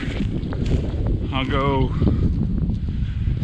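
Steady roaring wind buffets the microphone throughout, with a brief tonal whine in the middle and no clear speech.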